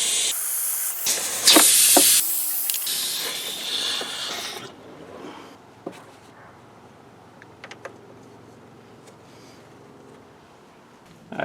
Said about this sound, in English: Time to relieve the pressure.